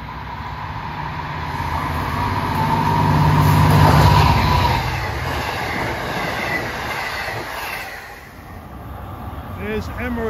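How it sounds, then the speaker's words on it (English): A Long Island Rail Road train, number 22 running Jamaica to Montauk and pulled by locomotive 2716, passes through a station at rush hour. It builds to a loud rumble of rolling wagons with wheel clatter and squeal, then recedes, with voices nearby. "Here comes train 22, Jamaica to Montauk at 6:50, the old"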